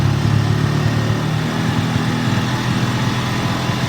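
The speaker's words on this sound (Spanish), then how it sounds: "Estoy acelerando y se siente cómo se ahoga" A car engine under acceleration loses power and bogs down, the low steady drone stumbling and sagging with an uneven, choking pulse throughout, close and loud with no voices.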